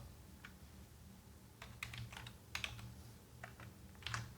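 Faint typing on a computer keyboard, scattered clicks in short irregular bursts over low background hum, quiet and close, no talking.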